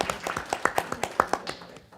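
Brief applause for presenters at the close of a presentation, a thin scattering of hand claps with a few sharper claps standing out, fairly close and fading out within a couple of seconds.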